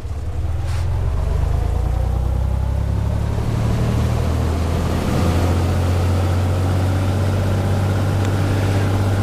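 A simulated Cessna 182 engine in a Prepar3D home cockpit runs up to 2,000 RPM. It makes a loud, steady droning roar with a low hum that swells and holds throughout.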